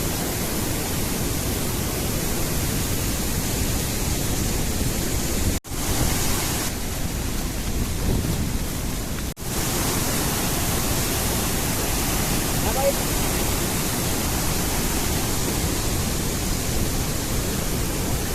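Flooded Randha waterfall in heavy monsoon rain, rushing water giving a loud, dense, unbroken roar with two brief cut-outs, close and steady throughout.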